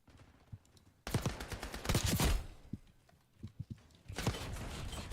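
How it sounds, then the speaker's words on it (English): Shotgun blasts in a Roblox game, a burst of loud close shots in quick succession, a pause, then another rapid cluster of firing. "A shotgun?"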